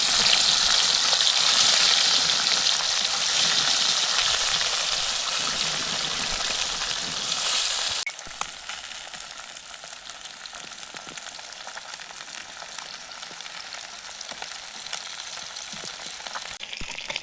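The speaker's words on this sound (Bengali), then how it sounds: "এই দেখুন তেল গরম হয়ে গেছে, এবার মাছগুলো একটা একটা ছেড়ে দেবো।" Chapila fish fry in hot oil for a Bengali fish chorchori, a loud, close, continuous sizzle that drops abruptly to a quieter, steady crackle about halfway through, with no voices.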